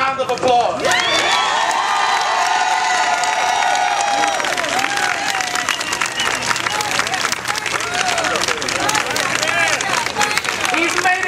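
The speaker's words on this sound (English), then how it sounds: "deserves a great round of applause" A crowd at a Bronx rally protesting proposed school closings breaks into loud, sustained cheering, shouting and clapping, with voices mixed into the continuous roar.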